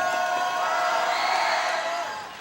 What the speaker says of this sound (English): this place is absolutely packed to the brim with passionate Viking and Panther fans cheering on their teams